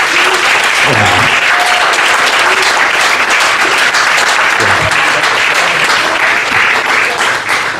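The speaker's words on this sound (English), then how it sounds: "can we just get a round of applause for Funny Bone staff, past, present, future?" Audience applause at a comedy roast in a Richmond, Virginia comedy club, a dense, steady wash of clapping filling the whole stretch at full loudness, with brief whoops and voices poking through.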